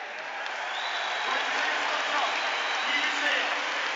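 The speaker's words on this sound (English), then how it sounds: "the Celtic fans will cheer, rightly so, for Fergus McCann, and listen to that cheer" A large football crowd at Celtic Park cheers and applauds in a loud, sustained roar that holds steady and swells slightly throughout, with no individual voices standing out.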